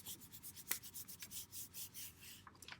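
A hand rubs and smooths a flattened paper pumpkin craft with soft, rhythmic swishing strokes, faint and close, with one sharper scrape partway through.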